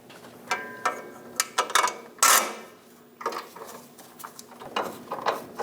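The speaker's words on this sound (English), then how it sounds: "Get the bolt started by hand. And snug it down." A hand ratchet tightens the fuel tank strap bolt on a 2003-2025 Chevrolet Express 2500, giving close, irregular bursts of pawl clicking with small metallic handling taps between strokes.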